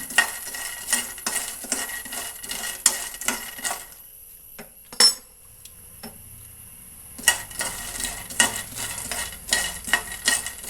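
Roasted chickpeas are stirred and reheated in a pan with rapid, dry rattling scrapes close by, pausing briefly in the middle before the clattering stirring resumes, with no talk.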